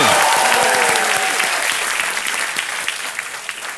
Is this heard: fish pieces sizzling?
no